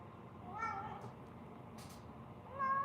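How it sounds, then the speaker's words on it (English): A pet cat meows softly a few times indoors, with short, tonal calls near the start and a slightly louder one at the end over a steady low room hum. "Kitty cat, purr"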